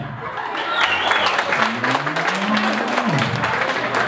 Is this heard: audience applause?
yes